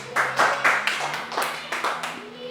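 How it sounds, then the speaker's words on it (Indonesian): Children in a classroom give a short round of clapping, several bursts of hand claps in quick rhythm, close and moderately loud, with a teacher's voice faintly present. "Tepuk tangan."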